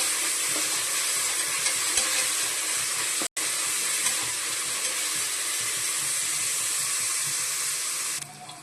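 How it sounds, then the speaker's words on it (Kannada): Fenugreek and mint greens frying with onions in a pan, a continuous close sizzle with a brief dropout partway through, no voices present. "ಸೊಪ್ಪೆಲ್ಲ ಸ್ವಲ್ಪ ಚೆನ್ನಾಗಿ ಫ್ರೈ ಆಗಲಿ."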